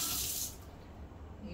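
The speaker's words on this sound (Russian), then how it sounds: "сейчас я холодной водой ее промою" Cold tap water rinsing a mackerel in a kitchen sink, a short hissing spray of running water that is strongest at first and then eases off into softer splashing.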